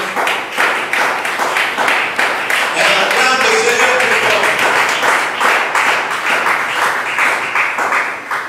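A church congregation applauds in a sustained burst of dense, loud rhythmic clapping that fills the hall, with voices calling out underneath.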